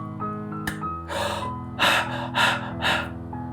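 A person trying to breathe through a pinched nose with the mouth closed, producing several strained, snorting bursts of air in a row, close and fairly loud.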